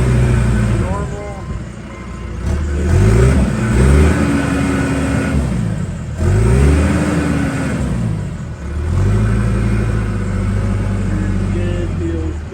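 A John Deere 410J 4x4 loader backhoe's diesel engine rumbles and revs as it drives forward and in reverse, with repeated rising and falling engine swells while someone talks over it.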